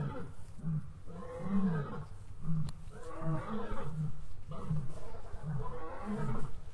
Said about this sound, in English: Big, big lion song in the background.